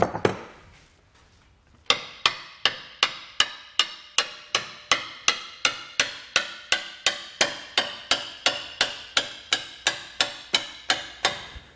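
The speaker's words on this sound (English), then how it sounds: "And then we can just take a hammer and just kind of tap that in." Steady, evenly spaced hammer taps, about two per second, sharp and close, continuing for several seconds after a brief quiet start, fitting a Blue Ox base plate kit onto a 2020 Buick Envision.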